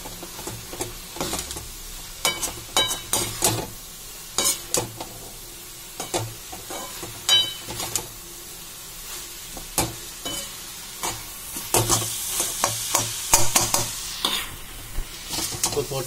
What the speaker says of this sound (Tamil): போட்டு நல்லா கிளறி விடுங்க.